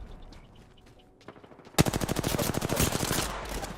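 Automatic gunfire in the battle royale shooter Apex Legends bursts in loud and close after a quieter start, a rapid steady stream of shots running to the end with no talk.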